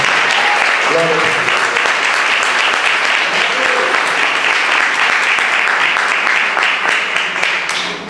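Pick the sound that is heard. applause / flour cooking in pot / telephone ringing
applause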